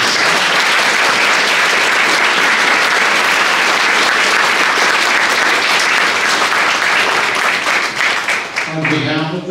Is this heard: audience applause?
yes